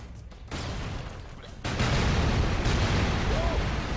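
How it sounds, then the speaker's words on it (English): Game explosions from Broforce's Tower of Brobel custom campaign, a dense roaring wall of blasts that swells louder partway through and keeps rumbling continuously, close and loud. "I like explosions."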